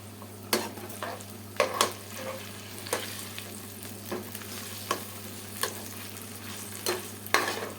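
Chopped chicken, already half-fried, sizzles in a pan with onions while being stirred, with scraping knocks of the spoon at irregular intervals over a steady low hiss.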